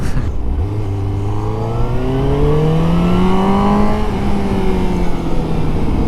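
A 2021 Suzuki GSX-S 750 four-cylinder motorcycle, rated just over 112 horsepower, revs up in a smooth, steadily climbing engine note that holds loud and close throughout, then eases slightly near the end.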